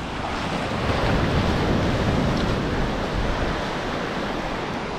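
Ocean surf rolls in steadily at Praia do Pontal in Arraial do Cabo, a continuous broadband wash of breaking waves with light wind buffeting, loud and close throughout without talk.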